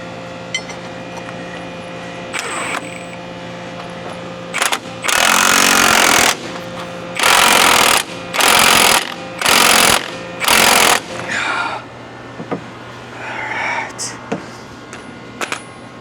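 An impact wrench with a deep socket works on the steering box of a Freightliner Cascadia truck, firing five loud, hammering bursts of a second or less, separated by short pauses, in a workshop where someone talks between bursts.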